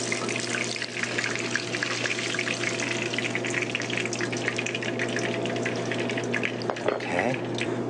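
Shrimp and yuca frying until golden brown in a professional kitchen, a dense constant sizzle with running water and kitchen clatter mixed in, fairly loud throughout.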